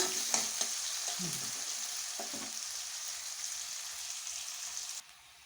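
Onions frying in a pan for chicken kosa, a steady hiss of sizzling oil with a few stirring scrapes near the start, cutting off abruptly just before the end.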